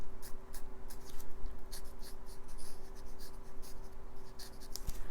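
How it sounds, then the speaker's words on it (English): Pencil sketching a Captain America drawing on paper: continuous soft scratchy graphite strokes, close and steady with bursts of quicker shading, over a faint constant hum. "that's the initial pencils or pencil sketch here for Captain America"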